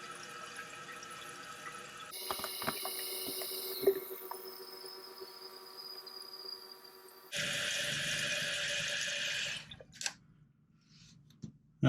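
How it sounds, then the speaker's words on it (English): Water hisses and trickles steadily into a toilet tank as it refills, the rushing stream shifting in tone partway through before tapering off into quiet drips. "Let the water fill up all the way."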